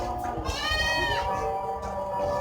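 A goat at a livestock market in Karachi gives a loud, wavering bleat up close, set against a dense backdrop of crowd and market noise.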